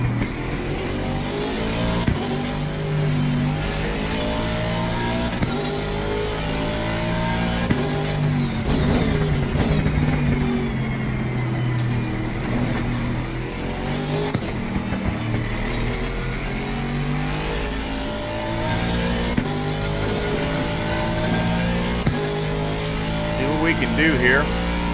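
Aston Martin Vantage GT3 race cars lap Misano in Assetto Corsa Competizione, their engines revving and droning loud and steady through gear changes, with someone talking over them.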